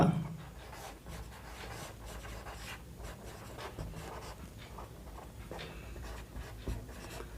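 Pen or marker writing out a chemical reaction by hand, a steady scratching and rubbing that runs continuously and close by with no talking.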